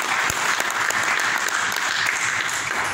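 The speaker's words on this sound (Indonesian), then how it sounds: "Tepuk tangan buat Tuhan." A church congregation claps throughout during a sermon, brisk continuous applause with sharp individual claps standing out, loud and close.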